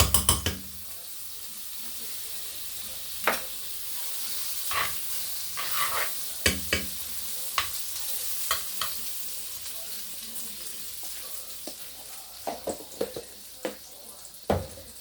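A big spoonful of butter melts in a pot over the heat, giving a soft, quiet sizzle with scattered crackles and pops that become more frequent toward the end.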